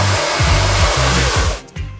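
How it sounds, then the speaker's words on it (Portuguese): A hair dryer blows to finish a freshly cut short men's haircut at a barbershop, a loud steady whoosh with its motor note shifting as it is moved, briefly cutting out near the end before resuming. "E agora a gente vai secar para finalizar esse cabelo."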